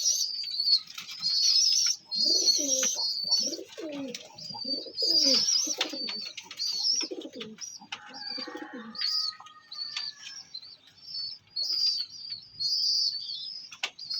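Old-breed Rampuri pigeons coo in low, repeated throaty calls close by, amid chirps and a high whistling tone, with brief pauses between phrases.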